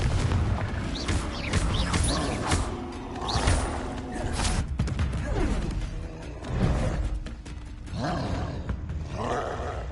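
A Confringo fire-blast spell in Hogwarts Legacy lands as a series of roaring whooshes and booming bursts, several heavy impacts spaced a second or two apart, loud and close, with no talking.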